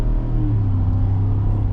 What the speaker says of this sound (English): So the V8 obviously is pretty sweet to have. It just sounds good, and it makes it feel like a truck.